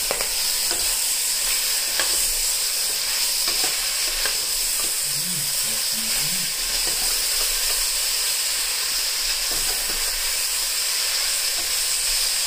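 Calalou, a Guianese Creole dish, is stirred in a cooking pot, giving soft scraping strokes over a steady sizzling, steamy hiss that stays loud and close throughout, with no talking.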